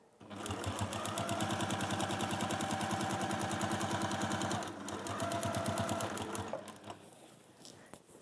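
A sewing machine sewing a lining, running in a rapid steady stitching rattle for several seconds, pausing briefly, then resuming before trailing off; close and fairly quiet.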